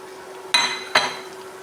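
Deboned fish stirred into cooked vegetables in a pot for meen aviyal, giving two sharp metallic clinks of a utensil against the pot, close and separate, over a quiet background hum.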